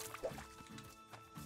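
Water is poured from a bucket in the Hydroneer mining game, a short soft liquid splash and trickle with faint dripping, low in level and close.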